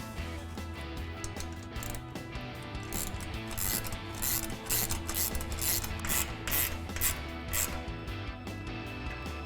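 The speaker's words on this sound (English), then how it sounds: "then we'll tighten this bolt down with a 13mm socket" A 13mm socket ratchet tightens an exhaust clamp bolt on a RAM 1500 AWE dual exhaust, giving a rapid series of close, rasping clicks in uneven bursts over a low background hum.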